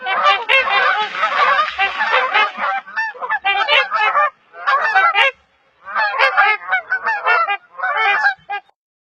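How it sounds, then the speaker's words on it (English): Swans call loudly in repeated honking, trumpeting bursts, several birds overlapping, close and clear with short pauses between bouts. "Swan."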